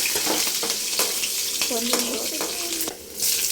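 Green chillies fry in hot oil in a pan with mustard seeds for cashew upma, a continuous sizzle with stirring scrapes and brief tonal clinks, dipping quiet for a moment near the end before resuming.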